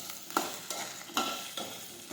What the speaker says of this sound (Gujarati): સમારેલો ભીંડો નાખી દઈશું. હવે આપણે સાતળી લઈશું.